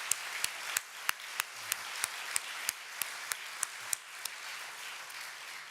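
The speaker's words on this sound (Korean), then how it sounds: "우리 하나님 아버지 앞에 우리 영광의 박수를 올려드립시다" Slow, rhythmic clapping at a Korean New Year's Eve church worship service, sharp claps at a steady beat, fairly quiet and evenly spaced.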